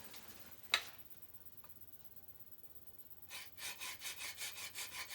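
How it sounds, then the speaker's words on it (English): A blade is sharpened on a diamond stone with a quiet, even rasp of about eight back-and-forth strokes. The strokes follow a single click and a stretch of near silence. "I'm going to hit my diamond stone again."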